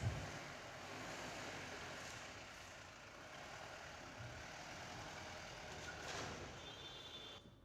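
A 5-ton truck engine runs during a factory strength test on PPR plastic pipe, heard as a faint, steady, distant rumble under broad background noise.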